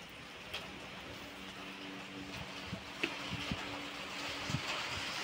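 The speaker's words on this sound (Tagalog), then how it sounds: "Grabe ang ulan." Heavy rain falls steadily outside during a day of strange weather with sunshine and showers at once, a continuous soft hiss with a few faint knocks and thuds over it.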